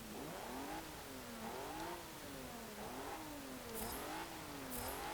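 A 1992 Alfa Romeo 155 Q4 in Forza Motorsport 7 laps the Le Mans Bugatti circuit, its engine rising and falling through repeated revving climbs and gear shifts, with a steady, moderately loud drone and no talk.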